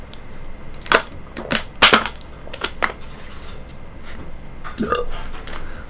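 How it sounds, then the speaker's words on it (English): A single short burp is followed by scattered clicks, thumps and brief vocal noises, moderately loud and close. "Little burp."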